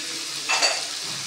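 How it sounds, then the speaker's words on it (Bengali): Chopped onions hit hot oil in a pan for a prawn dish, giving a sudden loud sizzle burst that settles into a steady hiss within about a second. "এই তেলের ভিতরে কেটে রাখা পেঁয়াজগুলো দিয়ে দেবো।"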